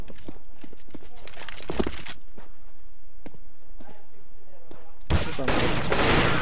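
Bursts of gunfire in Counter-Strike: Global Offensive, a few sharp cracks and a loud closing volley, heard under excited talk from players.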